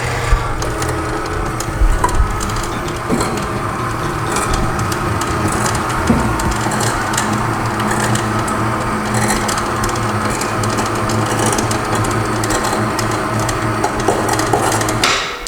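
An electric hoist lifting gas cans hums steadily and fairly loudly throughout, with occasional light knocks and rattles over the continuous motor drone.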